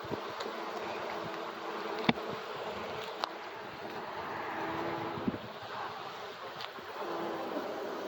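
Honey bees buzzing around an open hive during an inspection, a dense and fairly quiet swarm drone that never breaks, with a few soft knocks from handling the hive.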